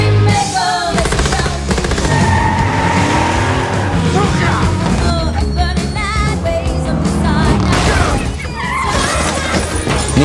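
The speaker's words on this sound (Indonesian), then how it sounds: "Aksi kejar-kejaran pula terjadi saat Yulian naik ke mobilnya." Car chase scene from the 2021 action film Nobody: a loud, continuous mix of revving engines, tire noise and gunfire-like bursts layered under driving music, with no pauses throughout.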